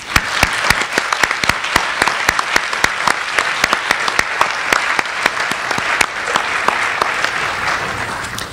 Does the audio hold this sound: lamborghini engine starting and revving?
no